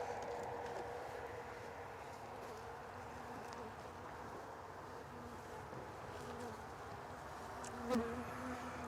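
Honey bees buzz steadily around hives in a dense, faint hum, with one brief louder pass close by near the end.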